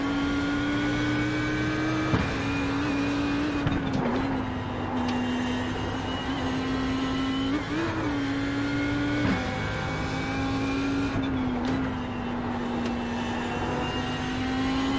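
Ford GT race car engine in the iRacing sim, a steady loud engine drone that holds pitch with brief dips and surges as the driver lifts and reapplies throttle through corners, running continuously without talk.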